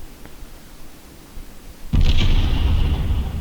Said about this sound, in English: make a big explosion.